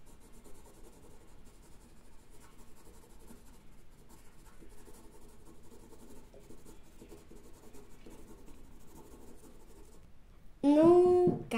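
A marker colours on paper in soft, faint, repeated scratchy strokes through most of the stretch, then a brief louder burst of sound near the end.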